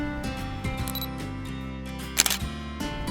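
A DSLR shutter fires once at 1/1000 s, f/4 and ISO 100 while photographing fresh spring foliage. The short, crisp click sits under steady background music.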